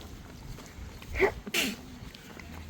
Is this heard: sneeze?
yes